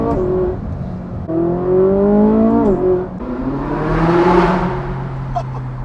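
A 2014 Ferrari 458 engine revs in race mode, with rising and falling harmonic sweeps as the revs climb, dip and surge again, loud and close.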